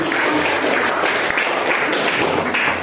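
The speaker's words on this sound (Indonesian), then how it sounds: "beri tepuk tangan" A room full of teachers at a training session claps steadily after a group presentation, a dense patter of hands close by that holds evenly for a few seconds.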